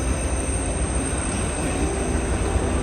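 Freight train cars roll past steadily with a continuous rumble and faint metallic squeal of wheels, close and unbroken.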